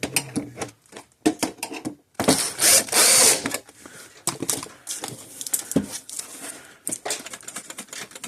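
Screws driven into a board with a power drill to hold a piece on an electric fence charger repair, giving several bursts of whirring motor noise separated by short pauses, fairly close and alone.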